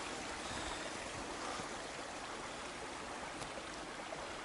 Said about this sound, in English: This creek is all the way up to the back of my house.